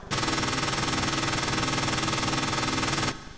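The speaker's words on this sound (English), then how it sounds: "it sounds like the engine sounds of motorcycle" Synthesized motorcycle engine sound built from a learned audio basis: a steady, dense, buzzing drone with a rapid pulsing throb, loud and continuous for about three seconds before cutting off abruptly.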